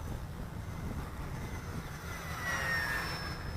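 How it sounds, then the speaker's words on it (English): Distant whine of an eFlite P-51 Mustang RC model plane at full throttle making a low high-speed pass, the engine tone rising and sweeping past, with steady wind noise throughout and no talk. "let's try a high-speed pass in front of us here down low."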